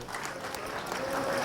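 Audience applause at a poker tournament among world champions at the WSOP Binion's Cup, a steady, full wash of clapping filling the whole moment, with faint voices mixed in.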